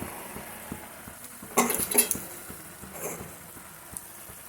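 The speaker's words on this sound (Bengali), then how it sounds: "দিয়ে একটু নাড়াচাড়া করে নিচ্ছি।" A cabbage curry is stirred in a pan, with a cluster of sharp metallic spoon-on-pan clinks and scrapes in the middle and a faint sizzle beneath, plus a later lighter clink, nearby and without speech.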